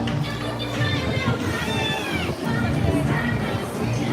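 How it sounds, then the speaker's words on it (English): A large crowd gathers at the Sesame Place San Diego theme park on its grand opening day, with dense overlapping chatter, children's shouts and high voices all around, loud and close. "there's a big crowd forming because the daily parade is about to start"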